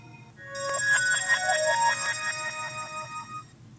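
A ringtone on an HTC One phone, a bright, chiming electronic melody of rippling bell-like notes that swells and fades over about three seconds, close and clear above a quiet background hum.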